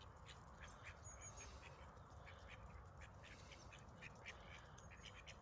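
Ducks quack repeatedly at a rural farm permission, a flock gathered close by with short, frequent calls over a steady outdoor background.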